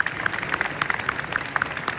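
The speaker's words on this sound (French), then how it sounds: "Des applaudissements s'il vous plaît." Audience at a French restaurant-award launch event clapping, a brisk, even patter of many hands that carries on steadily throughout, with no talking over it.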